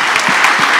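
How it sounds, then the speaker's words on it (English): A dense, steady wash of audience clapping at a church conference session, close and fairly loud, with no voices standing out. "I want you to give them a hand"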